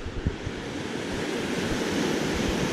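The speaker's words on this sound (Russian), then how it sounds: "Вот тут поток воды бежит огромный." Loud, steady rush of flowing water fills the clip, a broad continuous roar like a big stream close by, with no voices.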